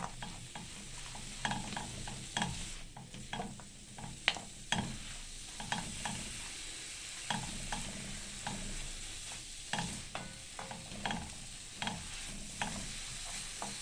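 Onion and tomato sautéing in a pan before crab is added, a soft, continuous sizzle broken by repeated stirring clicks and scrapes, fairly quiet with no speech.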